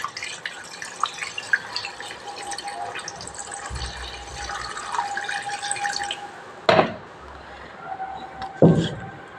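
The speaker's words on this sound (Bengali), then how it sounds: "এবার জল ঢেলে দেবো" Water poured into a cooking pot of browned chicken curry with potato and papaya, a steady trickling pour under faint background sounds, ending in two sharp clanks of metal against the pot.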